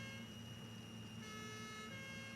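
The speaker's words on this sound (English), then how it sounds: "Put siren back on it." Siren on a machine in the Satisfactory video game, a steady droning wail held evenly for a couple of seconds, fairly faint.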